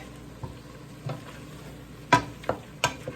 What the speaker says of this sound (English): a whole large onion, and I'm sauteing that up